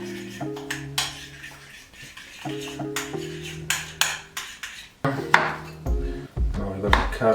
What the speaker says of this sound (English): And so I'm gonna put them in a little bit. Probably, I don't know, maybe 10 to 12 gram. We're gonna stir it up.